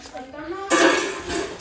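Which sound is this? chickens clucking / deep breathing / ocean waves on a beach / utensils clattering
utensils clattering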